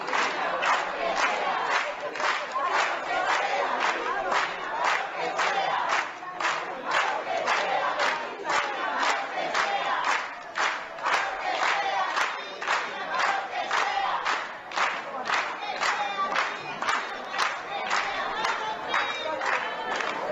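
A large crowd at a book presentation in Havana claps in a steady, rhythmic beat while chanting together, a loud, continuous festive mass of voices and palms.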